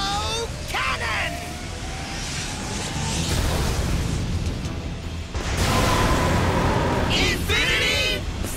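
Combo Cannon special attack in the video game Bakugan: Armored Alliance, with deep rumbling blasts and booming impacts under loud shouted character voices throughout.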